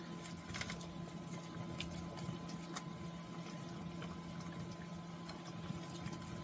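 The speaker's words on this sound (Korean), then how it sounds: "지금 김치를 넣고 잘 끓이고 있습니다" Kimchi stew with potatoes and onion simmers in a pot, a steady, quiet bubbling and gurgling with soft pattering that holds evenly throughout, without talk.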